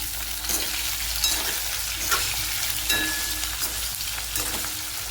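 Okra hits hot oil with cumin, mustard seeds and asafoetida, sizzling steadily and close, broken by occasional clinks and scrapes of stirring, with no talking.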